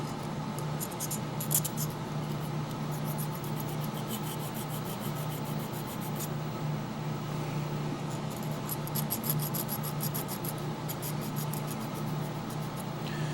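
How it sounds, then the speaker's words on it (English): A small file rasps steadily at the burrs on a brush spring from an Athearn SW1500 model locomotive, a close, continuous fine scraping with bursts of quick rhythmic strokes, no talking. "I'm going to file this just a little bit just to get those burrs off"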